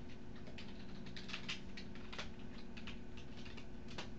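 Typing on a computer keyboard, faint quick clicking keystrokes in irregular bursts over a low steady hum, with no talk.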